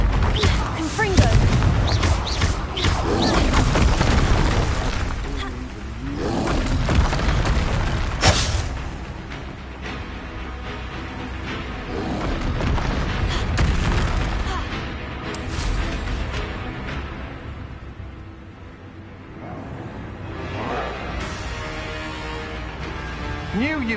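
Confringo fire spells blast repeatedly during a stream of a fantasy action video game, booming explosive bursts recurring over a dense, loud wash of battle noise, with a voice talking over parts of it.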